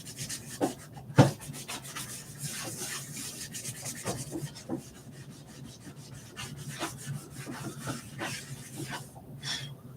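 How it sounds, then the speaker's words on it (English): Rust is rubbed off an old metal part in repeated short scraping strokes, a brisk rasping rhythm with one sharper knock near the start, close and moderately quiet. "I'm just going to clean a little rust off this before I go any further"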